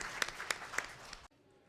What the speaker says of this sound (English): You can please give them another round of applause.